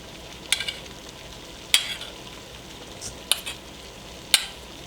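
Ricotta and pecorino gnocchi dough being mixed, heard as four sharp, separate scrapes or knocks of a utensil in a bowl, spaced about a second apart over a quiet background.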